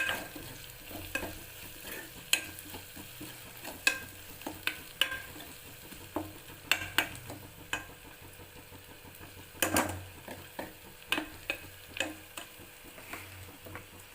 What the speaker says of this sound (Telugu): అల్లం వెల్లుల్లి పేస్ట్ కూడా ఆయిల్లో ఫ్రై అయిన తర్వాత పసుపు వేసుకోవాలి.